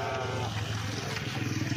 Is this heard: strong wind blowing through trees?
no